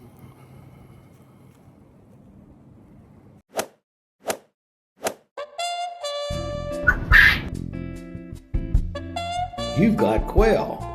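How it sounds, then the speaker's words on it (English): Quail in a winter coop at minus 29 degrees: after a quiet stretch come three sharp knocks, then a burst of chirping and squawking calls, some loud and close, followed by a person speaking amid the birds. "You've got quail."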